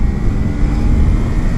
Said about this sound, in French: il n'hésite pas, hein, ce moteur, il crame dans les tours